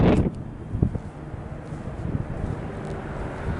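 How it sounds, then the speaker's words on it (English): Wind buffets a microphone outside a parking garage in Reading, Pennsylvania, with low rumbling gusts, strongest at the start, then settles into a steady blustery roar. "It's very chilly out here, windy."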